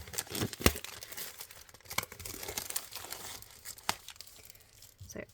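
Paper and plastic wrapping from a stamping kit packet being opened by hand, a steady close crinkle with several sharp tearing snaps along the way and no voices.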